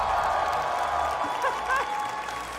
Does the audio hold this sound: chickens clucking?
no